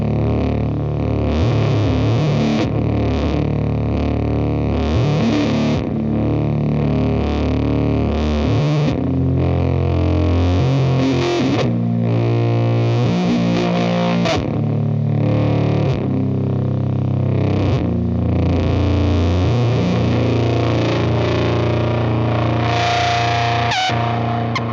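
A fuzz pedal pushes heavy distortion through a thick, rumbling low-pitched drone, loud and continuous, with wavering, swooping tones shifting over the top like a monster's growl.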